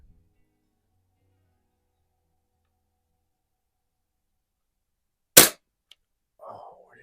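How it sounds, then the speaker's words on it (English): A single sharp rifle shot cracks out at a paintball target after long near-silence, close and loud, followed by a faint tick and a brief murmur of voice. "I think I saw that move off the paintball just as I was squeezing that trigger."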